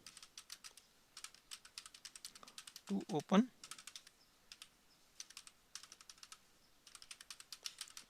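Rapid clicking on a computer keyboard comes in steady bursts throughout, close by and fairly quiet, with someone briefly speaking midway.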